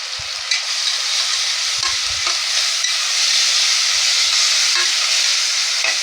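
Tomato puree fries in a pan while tinda is being cooked, giving a loud, steady sizzle and hiss throughout. A few soft low knocks of stirring sit underneath.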